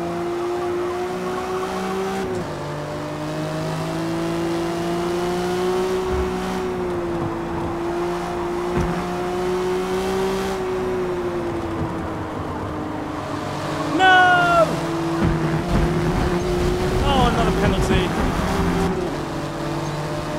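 Race cars in the Forza Motorsport video game, a steady engine drone with shifting pitch and brief tire squeals and gear changes near the end, heard continuously and loud.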